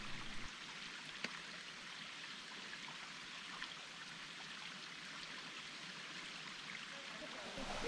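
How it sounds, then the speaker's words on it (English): A small forest stream on a trail near Arethusa Falls in New Hampshire, water running in a steady soft broadband rush with a light trickle, unbroken throughout and close by. "Even if they're not an impressive waterfall like this little stream, the melodic sound of water running is still beautiful."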